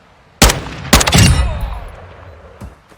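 Hip-fire shots from a gun in a shooter video game: two sharp, loud gunshot blasts close together with a ringing decay, then a fainter third shot near the end.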